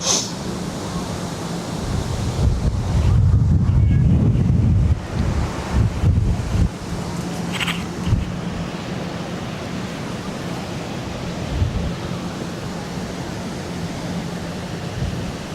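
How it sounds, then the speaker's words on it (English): A two-year-old Qatar Airways Boeing 787-9 Dreamliner jet arrives at Barcelona airport, a broad roar swelling loud and then easing off into a long steady rush, with wind buffeting the microphone throughout. "And this is a 2-year-old Boeing 7879 Dreamliner from Qatar Airways."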